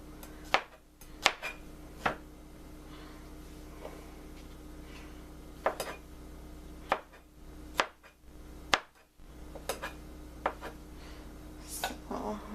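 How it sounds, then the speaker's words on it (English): A knife slicing shiitake mushrooms thinly on a cutting board, giving sharp, irregular chops spread out over a faint steady hum, with quiet gaps between strokes. "So I'm just cutting them into thin slices for now."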